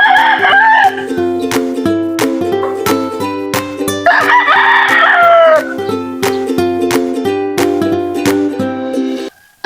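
Texas gamefowl roosters, one four years old, let out a couple of loud crows with some clucking, set against a steady, rhythmic musical beat that runs throughout.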